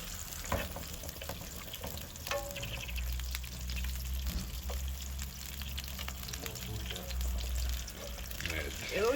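Salmon frying in melted butter in a pan, a steady low sizzle running throughout with occasional clinks and light handling noises, fairly quiet and close, no talk over it.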